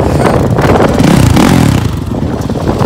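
Honda motorcycle engine warming up, a close, loud, rough idle with brief revs rising and falling over a few seconds.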